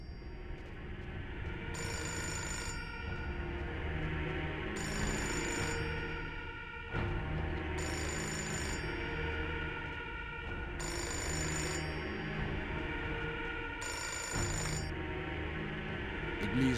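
A telephone rings in the video game Fahrenheit with repeated bright bell bursts at a steady interval, five rings in a row over a dense, droning game soundtrack.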